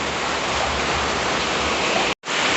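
Heavy rain pours down in Changori, a dense, steady, loud rushing roar of falling water that drops out for a brief instant near the end.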